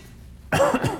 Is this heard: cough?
yes